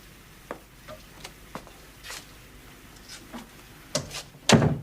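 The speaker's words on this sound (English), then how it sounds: "Sutton, please shut that door." An indoor door is pushed shut on a miserable night, closing with a firm thud and brief rattle near the end, after scattered faint knocks and movement in a quiet room.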